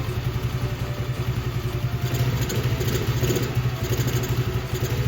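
A Honda CT70 clone minibike, the 2024 Icebear Champion, idles off choke through a quiet muffler, a steady close-up putter with a fast even pulse and faint mechanical clatter, no voices.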